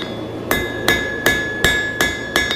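Hot steel is hammered over the edge of an anvil to bend a hook, six sharp ringing blows in a steady rhythm, close and loud, each leaving a bright metallic ring that lingers briefly.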